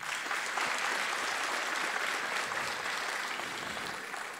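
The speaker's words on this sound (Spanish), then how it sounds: "Démosle un fuerte aplauso." Dense, steady applause from an audience at a municipal public accounts ceremony, loud and continuous for the whole stretch with no voices over it.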